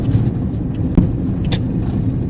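A manual car accelerates in third gear, its engine giving a steady, close mid-range hum with a light bump partway through.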